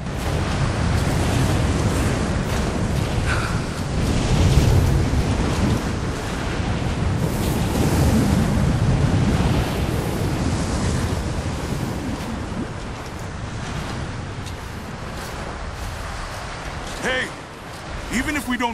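Strong gusting wind roars steadily on a high exposed slope in Rise of the Tomb Raider, a loud broadband rush with surges that runs the whole time under intermittent game dialogue.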